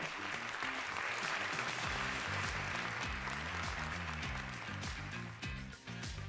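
Dense, sustained audience applause fills a Russian television game show studio, loud and continuous, with music playing underneath before it fades slightly near the end.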